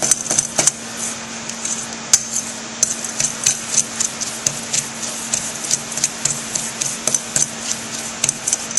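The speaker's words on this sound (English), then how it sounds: "I'm using a fork because that helps me smash the butter, and then those little pieces of butter get coated with graham crackers" A fork mashes cold butter into graham cracker crumbs for a key lime tart crust, making a steady run of quick, light taps and scrapes against the bowl, close and fairly even in rhythm, with no talking.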